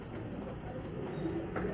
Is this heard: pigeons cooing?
yes